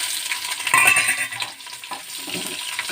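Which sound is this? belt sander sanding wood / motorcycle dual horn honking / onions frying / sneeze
onions frying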